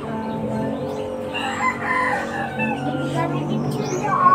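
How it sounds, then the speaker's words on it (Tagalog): Rooster crowing in a drawn-out call at moderate distance, with other fowl clucking around it and a murmur of voices in the background. "May manok man dyan, oh."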